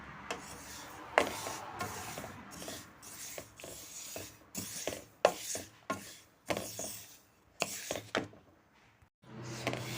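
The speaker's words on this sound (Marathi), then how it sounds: "तर आता आपले हे तीळ भाजून झालेले आहेत. तर ते मी काढून घेते." Roasted sesame seeds being scraped out of a pan in scratchy, irregular strokes, close and fairly quiet, with short pauses between scrapes and no talking.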